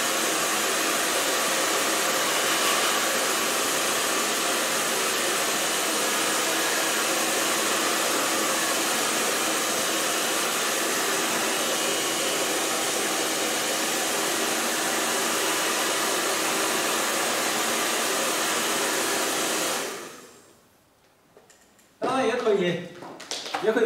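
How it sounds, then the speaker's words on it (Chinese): A hair dryer blows steadily and loudly over a wet Chinese ink landscape painting, a continuous close whoosh lasting about twenty seconds before it cuts off, followed by a brief voice. "我们就可以用吹干的形式"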